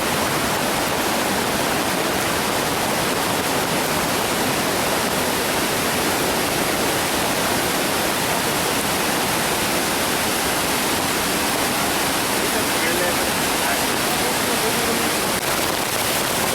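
Irpu Falls in Coorg, Kodagu, runs swollen after heavy rain, and the water rushes strongly in a loud, unbroken roar that fills the whole scene without pause.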